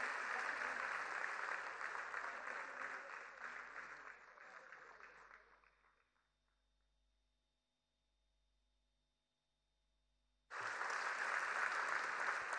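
Loud audience applause at a cultural festival gathering gradually fades to near silence with a faint hum, then a fresh burst of clapping erupts abruptly and continues strongly.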